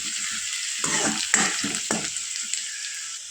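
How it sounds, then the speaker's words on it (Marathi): Finely chopped onion with red chilli frying in oil, a continuous bright sizzle broken by several clattering stirs of a spoon against the pan. "बारीक चिरलेला कांदा आता कांद्याला छान लाल कलर येईपर्यंत आपल्याला तेलामध्ये परतून घ्यायचा आहे"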